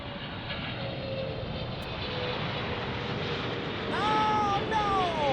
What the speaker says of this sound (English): As we check out our Singapore Airlines 777 landing from Tokyo.